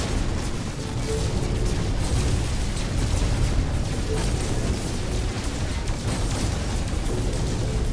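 Ship under fire from attackers in the No Man's Sky space game, a dense continuous barrage of booming impacts and crackling blasts filling the whole stretch at steady loudness.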